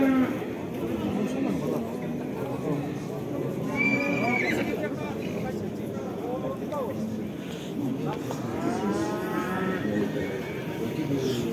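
Horses neigh and whinny at a busy livestock bazaar in Karakol, several calls rising over a steady crowd murmur while people talk nearby throughout.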